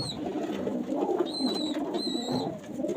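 Inside a racing pigeon loft, several birds coo in continuous overlapping low murmurs, with thin high whistling chirps breaking through now and then.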